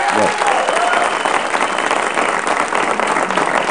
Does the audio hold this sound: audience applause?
yes